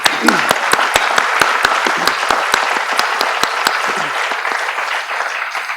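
Audience applause at a college fall semester in-service program, a moderate room of people clapping steadily with distinct individual claps, fading slightly toward the end, with a voice briefly heard.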